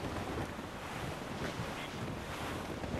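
Wind and surging waves at sea in Assassin's Creed Rogue, a steady, dense rush of broadband noise that holds evenly throughout with no voices.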